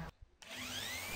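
An old wooden beam is being sanded during a house restoration, giving a steady, loud abrasive whir after a brief pause that picks up and runs on continuously.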